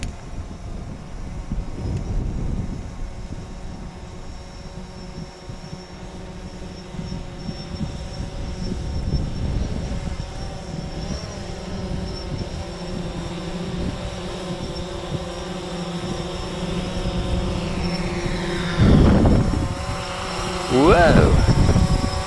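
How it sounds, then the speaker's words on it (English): A quadcopter drone flying in strong wind gives a continuous whirring propeller drone, with gusty wind buffeting the microphone and rising motor pitch near the end as it struggles to stay level; a person talks over it. "I've had a lot of fun with this quad, this drone"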